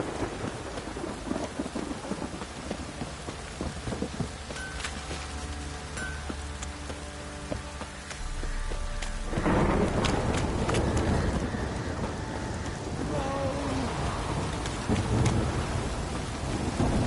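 Heavy downpour and rolling thunder from a thunderstorm in The Witcher 3 game world, steady rain hiss throughout with thunder rumbling and swelling louder in the second half, no talking.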